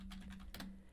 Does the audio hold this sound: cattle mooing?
no